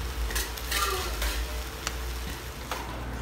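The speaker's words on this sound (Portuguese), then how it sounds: "Mexa bem assim para misturar tudo." Rice and beans being stirred together in a cooking pot, a continuous close scraping and shuffling of the spoon through the mixture with a few brighter knocks against the pot, with no talking.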